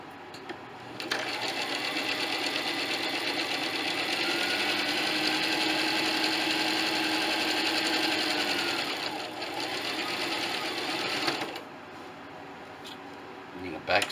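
A sewing machine stitches along pocket edges of a homemade ridgeline organizer, running steadily and close for about ten seconds with a brief slowdown midway before stopping, then quiet handling.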